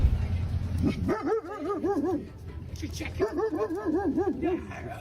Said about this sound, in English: this lady tries to argue with dogs